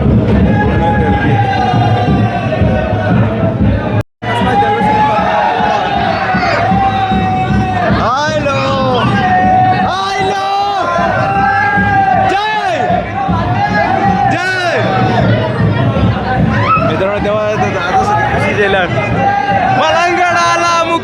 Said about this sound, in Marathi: पूर्ण गर्दी